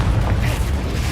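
Incendio fire spell cast in Hogwarts Legacy, a brief loud whooshing, rumbling burst of flame that fills the whole moment without a break.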